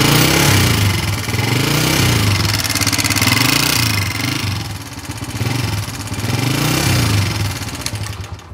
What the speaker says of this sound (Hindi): तो देखो, बाइक में शोर आवाज़ बहुत आ रही है।